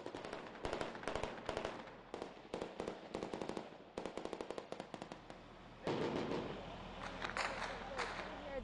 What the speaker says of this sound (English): Now there's more incoming fire.